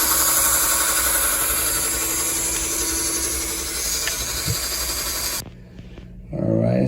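A cordless three-speed electric cleaning brush runs at its highest speed, a loud, steady motor whine with a buzzing vibration held close, then cuts out abruptly near the end, followed by a brief, quiet clunk.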